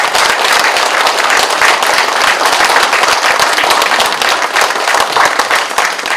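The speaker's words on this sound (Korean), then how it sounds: "자, 여러분 다시 한번 두 후보께 박수 보내주시면 감사하겠습니다." Dense, loud audience applause fills a hall after a televised debate between two county-head candidates in Sabuk, Jeongseon, a steady roar of many hands clapping without a break.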